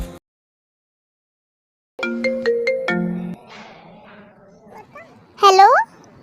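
A phone ringtone plays a short melodic run of tones, loud and alone after a silent stretch, then gives way to quieter sounds and a brief cat-like meow near the end.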